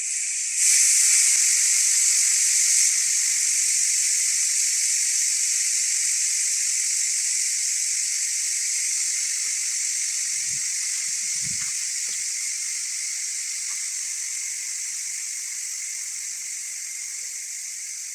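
An electric pressure cooker releases steam during depressurizing after cooking dry beans, a loud, steady hiss that holds for the whole stretch and fades only slightly, with a couple of faint knocks and no talking.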